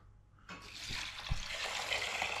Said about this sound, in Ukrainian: І води. Заливаємо водою.